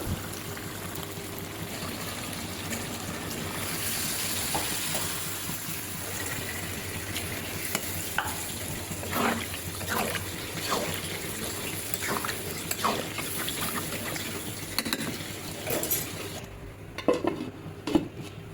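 Beef being braised in a pan with oil as water is poured in and stirred, a steady wash of liquid and scraping spoon against the pan, with busier clinks and stirring strokes toward the end; no talk.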